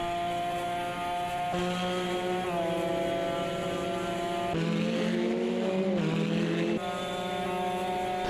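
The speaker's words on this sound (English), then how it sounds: "The McLaren does sound very good though" A McLaren GT1 race car engine in a racing video game at the Kyalami Historic circuit, loud and continuous, its pitch rising and dropping through gear shifts for the whole stretch, with no talk.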